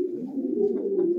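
Pigeons kept in a chicken coop give a low, continuous, throaty coo that carries clearly and close by for the whole moment, with no talk over it.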